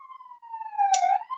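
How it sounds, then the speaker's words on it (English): Siren wailing from a passing ambulance, one falling tone that swoops and rises, heard alone at moderate level. "There's a ambulance going by."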